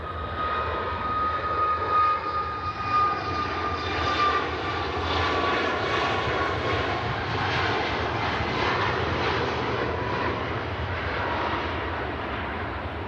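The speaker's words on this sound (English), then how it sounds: "The Ryanair climbing." A Ryanair airliner climbs out after takeoff from Manchester Airport, its loud, steady jet engine roar filling the whole stretch with a broad rumble and a faint whine, heard alone without talking.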